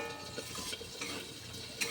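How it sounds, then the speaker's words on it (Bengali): Spice masala being stirred and fried in a pan, a soft continuous sizzle with faint scraping of the spoon and a small clink near the end, quiet and close. "এবারে ভালো করে আমি এইরকম করে মশলাটাকে কষিয়ে নেব"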